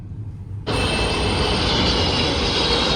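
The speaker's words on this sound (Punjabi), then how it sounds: "ਲਓ ਬਈ ਦੇਖ ਲਓ ਜਹਾਜ਼" Jet airplane at Delhi airport roaring loudly after a sudden onset, a sustained close engine rush with strong high whine that stays steady to the end.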